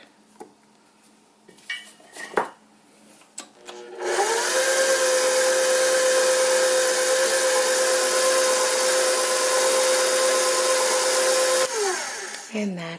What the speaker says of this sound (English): one quick pass with the mixer